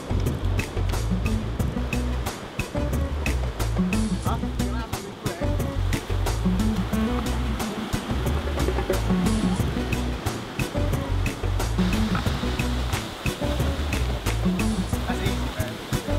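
Water waves wash steadily near a beach, a continuous loud rushing with rhythmic surges over about sixteen seconds, with voices faintly present beneath it.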